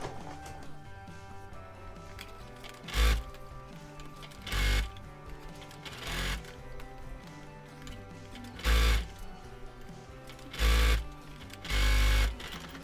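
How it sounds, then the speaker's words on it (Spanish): A sewing machine runs a straight stitch, length 3, along the hem of leggings, whirring in short bursts of about a second, separated by pauses of a few seconds with quieter mechanical ticking in between. "Para el dobladillo voy a usar una puntada recta en largo de 3"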